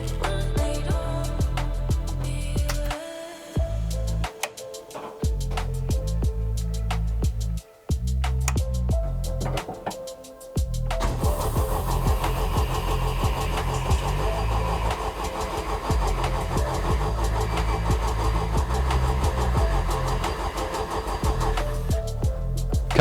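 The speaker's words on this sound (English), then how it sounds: "crank it over some oil pressure and see if we can get it fired up" A race engine cranks over repeatedly on the starter to build oil pressure, with stop-start churning bursts, then a longer, steady loud crank without firing, close by and with no speech.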